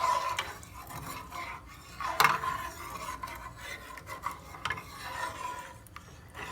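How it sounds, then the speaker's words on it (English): Djon-djon rice boiling in a pot is given a brief stir, with soft scraping and rubbing of a utensil against the pot and a sharper clink near the middle, no talk. "Then you stir it just a little bit."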